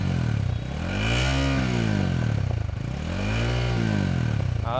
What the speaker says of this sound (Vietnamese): các bạn có thể thấy cái tiếng ống xả của Winner X nghe nó lực hơn